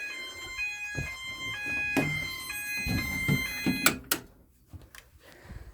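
A smoke detector during a fire alarm system test, sounding a loud electronic tonal alarm pattern with stepped pitches and some knocks, then cutting off abruptly into near silence with faint handling noises.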